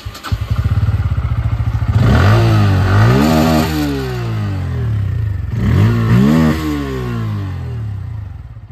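A Bajaj Pulsar N160 motorcycle idles nearby, then revs loudly in two strong throttle bursts. Each burst climbs and falls back to a steady, rumbling idle.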